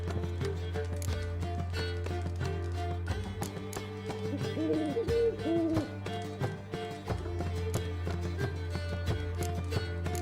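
In The Witcher 3 video game, a bird hoots a few soft, repeated calls midway, set over a steady low hum and some clip-clop footsteps.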